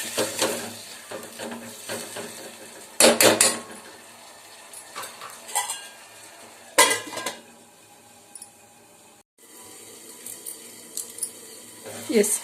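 A dill and toor dal stir-fry is stirred in a pan over low flame, with a few sharp clinks and scrapes of the utensil against metal between quieter stretches of soft kitchen noise.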